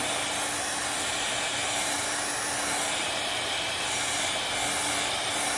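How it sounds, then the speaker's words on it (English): A hair dryer blows steadily on freshly applied paint to speed drying, a loud, continuous close-up whoosh of rushing air with a faint motor hum holding level throughout, with no one speaking. "You don't have to use a heating tool, but if you have a blow dryer, you can definitely use that just to kind of help it to dry a little faster."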